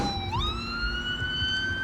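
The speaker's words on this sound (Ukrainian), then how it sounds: "Вулицями міста одразу почали ширитися звуки сирен" A siren wails in Kryvyi Rih after a ballistic missile strike, its tone rising and then holding steady, over low background rumble, moderately loud and somewhat distant.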